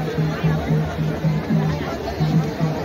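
Busy crowd chatter around festival food stalls at the Raipur Rajyotsav 2022 celebration in Chhattisgarh, continuous overlapping voices close by with a low pulsing hum beneath the babble.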